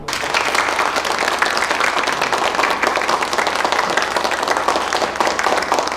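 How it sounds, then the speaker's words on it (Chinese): An audience breaks into sustained, dense applause at a marriage proposal, many hands clapping evenly and fairly loud for several seconds without a break. "能给我掌声吗？"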